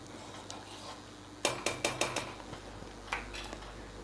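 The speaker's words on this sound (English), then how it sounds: "Then stir it again." A spoon stirs milk mixed with vinegar and water in a pot, making a quick run of light metallic clinks and taps against the sides, then a few more scattered knocks over a faint background hum.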